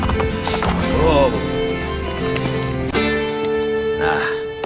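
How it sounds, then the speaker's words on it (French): Horses gallop in the video game Assassin's Creed Brotherhood, their hooves clattering in a quick rhythm beneath game music and ambient noise, with a brief whinny-like cry and voices in the scene. "Ces chevaux sont trop rapides pour moi."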